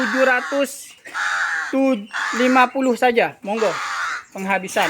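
Crows at a bird market caw again and again in loud, harsh, close calls that come in quick bursts, with someone talking between and over them.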